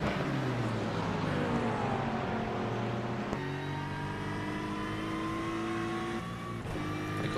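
A GTD race car powers uphill out of turn 1 at Watkins Glen, its engine rising loud and close through the gears with brief shift breaks and a faint tire squeal, no talking.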